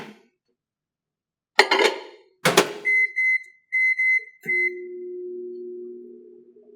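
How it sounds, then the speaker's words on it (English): A microwave oven cooking pasta in water: two clunks of the door, a series of keypad beeps and a start tone, then a low, steady running hum that continues to the end. "Now microwave your pasta for 15 minutes."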